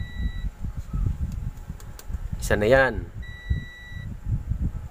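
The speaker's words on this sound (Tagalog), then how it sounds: "so kita nyo, nag-buzzer siya" A high electronic protection buzzer on a faulty Audioline AV-602BTF amplifier beeps in two sustained bursts while someone speaks over low clattering handling noises.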